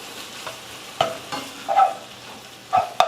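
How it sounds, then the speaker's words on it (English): Meat being stirred as it fries in a pot for Philly cheesesteak tater tots: scattered scraping stirs and sizzling bursts at intervals, close and fairly soft, with no talk. "Keep giving it a good stir."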